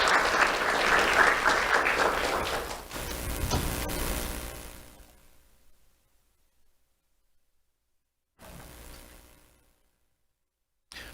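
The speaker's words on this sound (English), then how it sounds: "Let's have a round of applause for Hudson Broad." Crowd applauding third-grade award recipient Hudson Broad at a sheriff's office Do The Right Thing awards ceremony, a full burst of clapping that fades over about five seconds into silence, with a brief faint return later.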